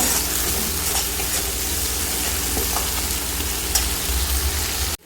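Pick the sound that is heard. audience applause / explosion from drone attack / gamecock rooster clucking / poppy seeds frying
poppy seeds frying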